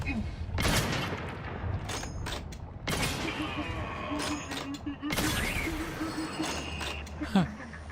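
Bursts of gunfire in The Outer Worlds 2, with several sharp volleys of shots mixed with mechanical clatter, loud and close, while a voice talks over the shooting.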